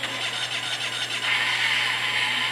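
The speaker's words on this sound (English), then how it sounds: "Engine sounds same as any other one." Engine of a Manhattan stunt car in the Burnout Paradise video game, a steady buzzing drone that grows slightly louder halfway through, with no voices.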